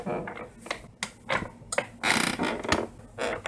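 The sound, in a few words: chair squeaking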